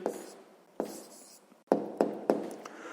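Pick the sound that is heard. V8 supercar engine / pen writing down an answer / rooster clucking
pen writing down an answer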